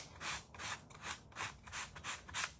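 A painted wooden craft shelf-sitter piece, a bunny's heart and nose, is scuffed with sandpaper in quick, rhythmic rubbing strokes, about seven soft close passes with no talk.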